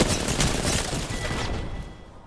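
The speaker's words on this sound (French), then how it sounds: "Ça s'appelle un fusil à pompe." A pump shotgun fires in Apex Legends, a loud blast with a dense burst of gunfire that decays over about two seconds, with no voices.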